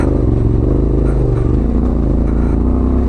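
Motorcycle riding a loose gravel trail, a steady mid-pitched engine drone close and loud with rattling clatter from the bike and stones underneath.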